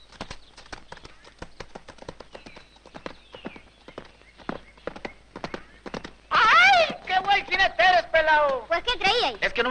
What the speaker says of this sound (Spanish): Bueno, vámonos, píquele a su caballo.